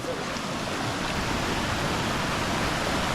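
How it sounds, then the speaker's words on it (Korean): Steady, loud rush of a waterfall in Hongcheon, Gangwon Province, a broadband roar filling the whole clip with no breaks. "자 한번 시원한 폭포 한번 보시겠습니다"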